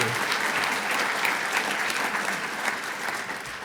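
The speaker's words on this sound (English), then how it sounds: "Let's give her a big another round of applause." An audience at a swearing-in ceremony applauds in a dense, steady wash of clapping that stays close and full, easing off slightly toward the end.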